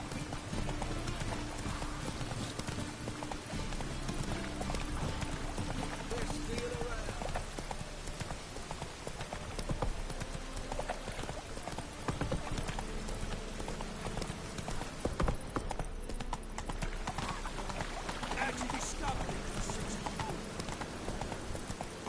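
Roach, a horse in The Witcher 3 video game, gallops with rapid rhythmic hoofbeats that continue steadily for a long stretch, with background game ambience and a speaking voice over the hooves.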